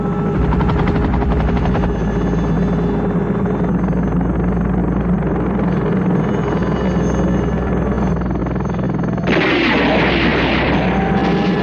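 A helicopter powers up and lifts off in a French action thriller from 1986, its heavy rotor thump and turbine whine loud and continuous, with booming impacts in the mix and a sharp surge of noise near the end.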